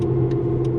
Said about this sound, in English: The sounds that this car makes are horrible